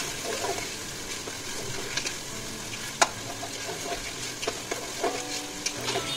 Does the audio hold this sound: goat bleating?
no